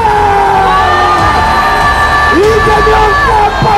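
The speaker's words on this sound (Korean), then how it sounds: "함성 발사!" Large outdoor political rally crowd protesting alleged election fraud, loud sustained cheering and shouting with whoops and chanting voices, a dense continuous roar close to the microphone.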